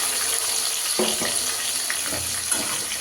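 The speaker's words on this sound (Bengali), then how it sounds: "মশলাতে একটু জলও দিয়ে দিলাম" Water is splashed into spice paste frying in a pan with chilli and bay leaf, a steady hiss and sizzle with a few brief louder pours and spatters, close by, with no talk.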